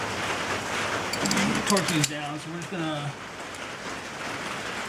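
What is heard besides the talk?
rain falling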